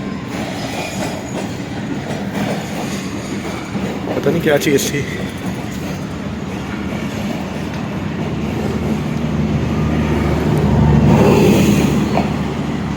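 A moving train at Badami Bagh Railway Station, Lahore, rumbles and clatters continuously, swelling louder toward the end, with a voice briefly speaking over the noise.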